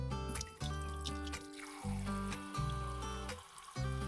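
Water runs steadily from a tap after a water filtration system has been installed. The stream sounds full and continuous, with shifting tones that stop and start a few times.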